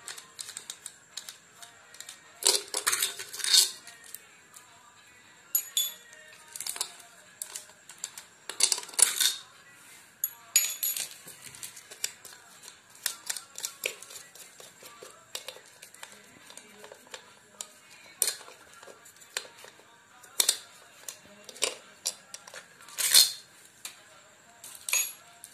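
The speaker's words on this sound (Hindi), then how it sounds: "तो फटाफट से इनको हम खोल लेते हैं।" Studs are unscrewed from a cooler motor, heard as faint, close, intermittent metallic clicks, taps and clinks of tools on metal, scattered irregularly over a quiet background.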